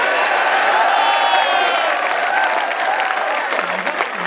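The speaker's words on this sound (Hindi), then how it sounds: "तो अब देना तालियां" An audience at a comic poetry gathering, a hasya kavi sammelan, claps and cheers loudly for several seconds, with crowd voices and whooping tones mixed into the dense applause.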